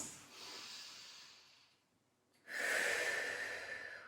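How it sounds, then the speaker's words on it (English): Two slow, deep belly breaths during a beginner Pilates stretch, a soft airy inhale fading into quiet, then a louder, fuller breath close to the microphone. "Take a couple deep belly breaths."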